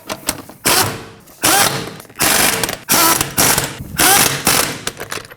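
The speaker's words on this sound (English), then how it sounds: "Now we can snug these down in a star pattern." Ratchet bursts snugging down lug nuts in a star pattern on a 2015-2024 Ford Edge 2.0L L4, six loud rapid clicking runs separated by short pauses, close up with no talk.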